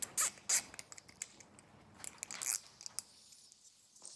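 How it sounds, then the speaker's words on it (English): A zip tie ratcheting tight while fitting Firestone Ride-Rite Red Label Extreme Duty air helper springs on a 2024 Ford, heard as a few close, sharp clicky zips in quick bursts, then fainter rasps. "And we'll just zip tie this up."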